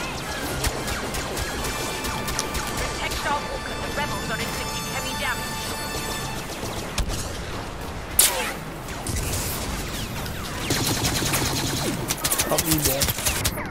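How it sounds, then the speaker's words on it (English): Blaster fire in Star Wars Battlefront's Walker Assault mode, a steady stream of rapid energy-weapon bursts with crashes and impacts throughout, loud and continuous, with a sharp hit near the middle and denser firing toward the end. "Stop it! Stop shooting me like that!"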